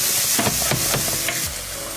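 Aubergines with garlic sizzle in a hot pan, a steady broadband frying hiss with a few soft stirring scrapes, close and continuous with no talking.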